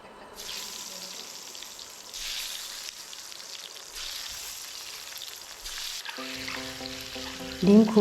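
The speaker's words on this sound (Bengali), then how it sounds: "একে একে সাদা তেলে এগুলোকে 2 থেকে 3 মিনিট ভেজে নিচ্ছি।" Boiled eggs coated in salt and chili powder fry in white oil for a Nawabi egg korma, giving a steady, moderate sizzling hiss that runs throughout. A louder burst of sizzle comes near the end.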